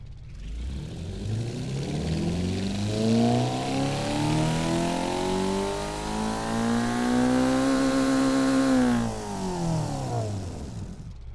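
A modded sports sedan engine in the BeamNG driving game revs up and holds at high RPM, a loud, smooth rising whine that sustains for several seconds and then drops away near the end.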